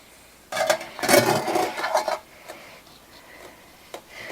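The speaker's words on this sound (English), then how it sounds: "let me get my bread pan out" A sprayed metal bread pan clanks and rattles as it is pulled out and handled in a home kitchen, with a loud burst of metallic clatter followed by a few lighter knocks, no talking.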